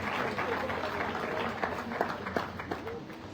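Scattered audience clapping at a tribal community conference hall, soft and diffuse, with a few sharper claps standing out near the end beneath room murmur and talk.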